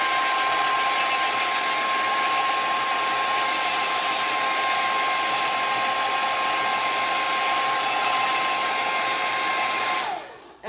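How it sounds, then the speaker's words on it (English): A blow dryer runs loud and steady with a constant whirring hum, then switches off abruptly at the end. "I'm going to hit this with the blow dryer"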